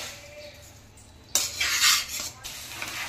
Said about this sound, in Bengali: চালটাকে ঘিয়ের সাথে একটু ভেজে নেব